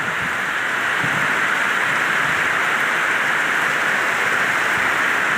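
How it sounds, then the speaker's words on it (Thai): Heavy rain pours steadily at night, a dense, loud, unbroken hiss of falling water with faint patter beneath, lasting the whole stretch without voices. "ฝนตกหนักครั้งแรกนะครับ ของปีนี้นะครับ"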